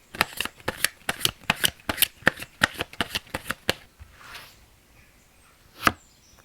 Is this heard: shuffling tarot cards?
yes